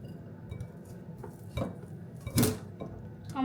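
Sweet corn being set onto a metal plate in a home kitchen, with a few scattered clinks and scrapes of dishes and utensils, one sharper clatter near the middle.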